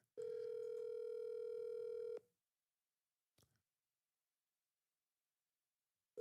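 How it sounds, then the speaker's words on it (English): A phone call rings out with a steady electronic ring tone lasting about two seconds, followed by silence, a brief faint click, and the start of another ring at the very end. "Somebody gonna answer my motherfucking phone call."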